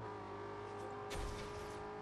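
Audi RS5 Coupe with 442 horsepower driven in Forza Horizon 2, its engine a steady high-pitched drone that surges briefly in a louder burst midway, faint and alone.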